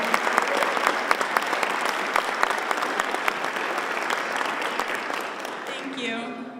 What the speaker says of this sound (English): Let's give her a hearty round of applause as we welcome Rochelle Jervis.